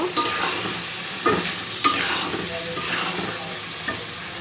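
Chicken skin, gizzard and potatoes stir-fried with garlic in a hot pan, a loud close sizzle with repeated scraping and clattering stirs throughout.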